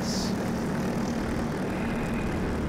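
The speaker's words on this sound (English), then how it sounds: "This is an amazing kart racing engine." Racing kart engines at a circuit drone steadily and continuously with a buzzing, wind-blown roar, heard from on board the kart amid a closely bunched pack, with no talking.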